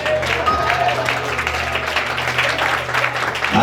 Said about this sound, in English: Y'all didn't have to stop clapping.